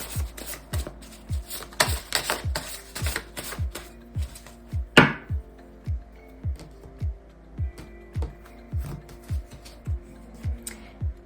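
Tarot cards are shuffled in a steady, even rhythm of crisp riffling flicks, close and clear, with one sharper snap midway and no talking.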